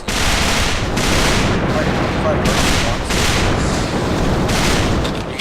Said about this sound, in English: Shots, just like the MP7. It's one at a time, obviously.